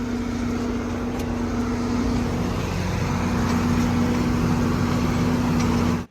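A John Deere 4440 tractor towing a buggy between fields, its engine a steady, droning hum that holds a constant pitch throughout, with no talk over it.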